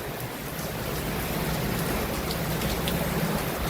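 Steady rain falls during Tropical Storm Helene in Stockbridge, Georgia, a dense, constant patter on surfaces, loud and close and unbroken throughout, with no voices.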